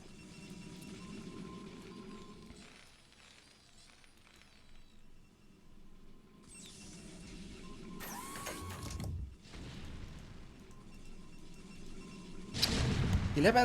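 StarCraft siege tanks boom in scattered heavy blasts amid clanking mechanical unit noises during a tournament match. The shots land irregularly, with quieter stretches between them and a louder burst toward the end.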